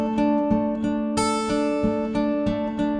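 Guitar strummed through a chord progression with a capo, steady rhythmic strums ringing with bright sustained harmonics, up close and alone.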